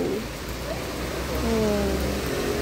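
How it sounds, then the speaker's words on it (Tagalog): Heavy rain pours down during a sudden downpour in Taiwan, a steady, dense hiss that swells slightly partway through. A voice and a passing tonal sound surface faintly beneath it. "Biglang lumakas ang ulan."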